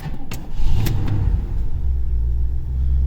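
A 1981 Buick Electra Park Avenue fires up from a cold start, a few sharp cranking bursts at the beginning giving way to a loud, steady low engine rumble close by.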